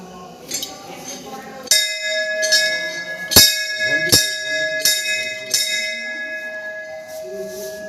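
A temple bell rings repeatedly with bright, sustained metal tones, struck several times at uneven intervals amid faint background chatter.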